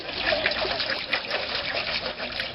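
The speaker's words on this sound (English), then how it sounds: "bring some water to a boil." Water pours steadily into a cooking pot set over a campfire, a continuous splashing trickle close by that runs without a break.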